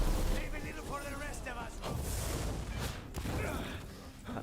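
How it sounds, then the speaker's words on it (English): Fiery explosion from an unblockable fireball in Dragon Age: The Veilguard, a loud booming burst with rumbling game combat noise that rolls on through the whole moment, partly under talk. "That was an unblockable fireball."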